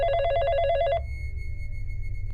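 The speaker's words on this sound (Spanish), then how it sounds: "Entonces se comenzó a oír el teléfono sonar." A telephone rings once with a rapid warbling electronic trill, loud and close, then stops and leaves a low background hum.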